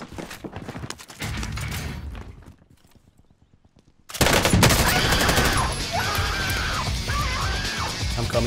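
Light machine gun fire in the battle royale game Warzone, starting as a sustained burst, dropping to near silence, then resuming as loud continuous automatic fire with mechanical and action noise layered over it.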